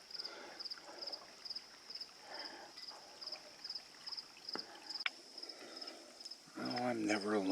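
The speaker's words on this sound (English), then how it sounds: "as you can hear the frickin' cricket" A cricket chirps in steady, evenly spaced high pulses, close and persistent, outdoors at night by a fire, with soft background noise and a voice rising near the end.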